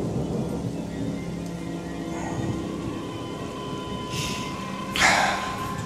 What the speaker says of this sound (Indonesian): Dan hujan pun turun lagi.